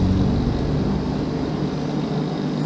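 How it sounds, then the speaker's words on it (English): Steady outdoor whoosh of a Radian radio-controlled glider airplane in flight, a continuous broadband rush of wind and motor noise with no distinct events and no talking. "This is a flying airplane here,"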